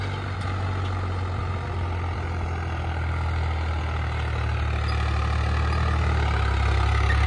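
A heavy diesel Swaraj 744 tractor engine runs steadily at idle, a deep continuous low rumble with no talking, holding level throughout.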